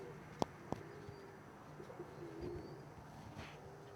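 Soft, low cooing from modern frill black blondinet pigeons in a loft, faint and intermittent, with two sharp clicks near the start and no talking.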